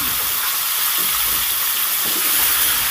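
Thick-cut potato pieces fry in hot oil in a pan, a loud continuous hiss and sizzle filling the whole stretch without pause or voices.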